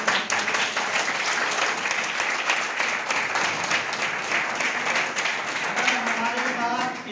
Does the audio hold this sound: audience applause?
yes